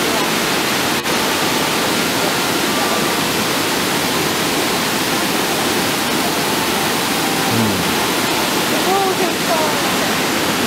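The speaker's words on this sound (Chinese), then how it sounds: "呢條就係烏來瀑布啦" Wulai Waterfall in Wulai District, New Taipei, Taiwan pours down with a loud, steady broadband roar of falling water, heard from a distance and unchanging throughout.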